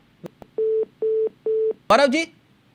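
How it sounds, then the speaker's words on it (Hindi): A phone call drops on a line during a Hindi news discussion: a few faint clicks come first, then three evenly spaced steady beeps of the disconnect tone, followed by a brief burst of voice. "फोन कट गया क्या?"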